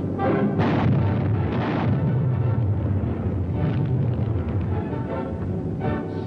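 Archival war footage of explosions blowing up roads and buildings: continuous, dense rumbling booms and blasts, loud and sustained, with several sharper bursts standing out through the roar.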